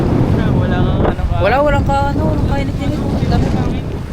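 Strong wind rushes and buffets steadily, with a voice talking over the blustery noise throughout.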